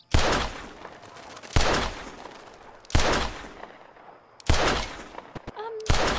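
Pistol shots at a shooting practice range, five loud sharp cracks spaced roughly a second and a half apart, each with a short decaying ring, and faint chatter in the gaps.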